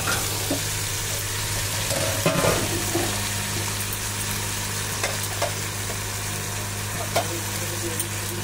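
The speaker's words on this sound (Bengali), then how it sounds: "এবার আমি ভালো করে এটাকে নেড়ে মিশিয়ে নেবো।" Malabar spinach is stirred in a hot pan, a steady sizzle with scattered scrapes and clinks of the spoon, plus a low constant hum underneath.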